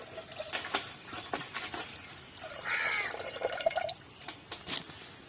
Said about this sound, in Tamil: வெல்லம் வந்து மேலோட்டமாக இருத்து ஊற்றிக்கலாம்.